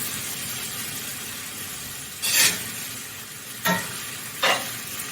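Stewed cabbage with pepper is stirred in a pan over a soft steady sizzle, with three brief scraping strokes of the spoon standing out near the end.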